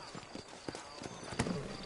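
Horses' hooves clip-clopping in the Western video game Red Dead Redemption, a quick irregular run of hoof knocks at moderate distance, fairly faint, with a brief sharper impact partway through.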